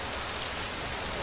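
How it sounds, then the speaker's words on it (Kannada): Heavy monsoon rain pours down near Mangaluru in coastal Karnataka, a dense, even hiss of drops striking surfaces that fills the short stretch without pause or voices. "ರಾಜ್ಯಾದ್ಯಂತ ಭಾರಿ ಮಳೆ ಆಗ್ತಾ ಇದೆ."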